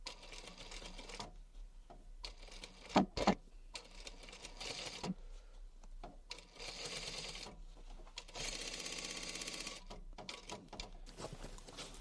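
A domestic sewing machine stitches upholstery fabric for a box cushion cover in steady mechanical bursts, pausing between runs with a few louder clicks, close and fairly quiet with no talk.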